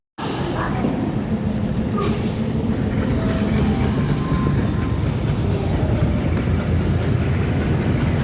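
A train at a railway station near Colombo, Sri Lanka, gives a continuous loud rumble with rolling rail noise throughout, close and steady, with people talking faintly underneath.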